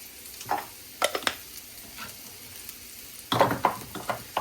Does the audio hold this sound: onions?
yes